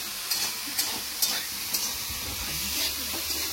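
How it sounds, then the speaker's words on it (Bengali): Potatoes fry in a pan, giving a steady sizzle broken by a few sharp stirring scrapes and taps at irregular intervals, fairly close. "বানাতে বলতে না আলুটা ভেজে নিচ্ছি আর কি"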